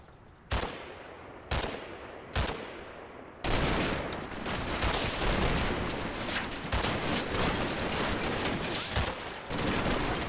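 Infantry gunfire in the Combat Mission wargame, set in Normandy during Operation Epsom: three sharp separate shots, then a dense continuous fusillade of overlapping rifle and machine-gun fire, steady and fairly loud, with no talking.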